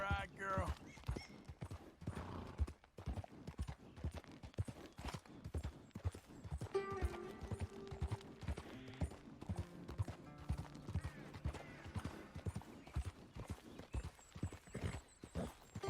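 Horse hooves in Red Dead Redemption 2 clip-clop in a steady, close, even rhythm the whole way, with creaking tack, a brief whinny and in-game dialogue over the top.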